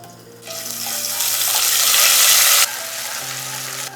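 Ginger paste hitting hot oil with two bay leaves, a loud bright sizzle that swells and holds steady, then drops abruptly to a softer frying hiss, close up with no talking.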